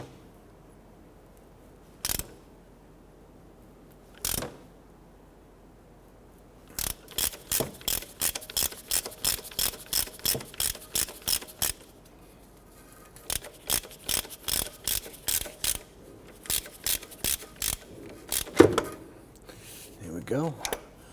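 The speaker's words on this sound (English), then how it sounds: "Now we're using a puller tool here to go ahead and pull our harmonic balancer here." Ratchet clicking in quick repeated bursts as a puller tool works a harmonic balancer off a 1992-1996 Toyota Camry 2.2L four-cylinder, with a couple of isolated clicks first and steady ratcheting runs after, close and fairly loud.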